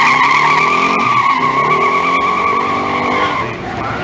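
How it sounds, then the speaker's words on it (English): A muscle car does a burnout at a car show, tires squealing loudly and continuously over a roaring engine, the shriek holding steady before easing off near the end. "That was a fun burnout."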